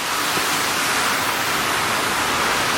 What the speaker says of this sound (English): this big pipe. But it's just spitting water at the wall, which is why it's so flooded here